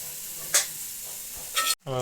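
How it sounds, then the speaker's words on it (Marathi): Dry coconut roasts in a pan, giving a soft background sizzle with a couple of brief scraping stirs, and a short burst of voice near the end. "सुका खोबरा आता टाकल्या परतून चांगला घ्यायचा"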